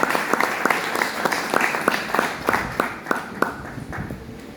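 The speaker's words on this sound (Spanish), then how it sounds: "Un aplauso para esto" A small church congregation applauds with sparse, sharp individual claps in an uneven rhythm over a low room murmur, with no voices on top.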